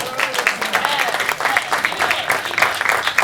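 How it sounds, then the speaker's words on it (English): A conference audience claps steadily throughout, a dense, even patter of many hands at moderate distance, with no talk standing out over it. "Clap for yourselves for attending this conference."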